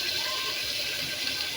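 Water pours steadily into a blender jar holding ground spices and bay leaves, a continuous close gush of even splashing with no pauses over under two seconds.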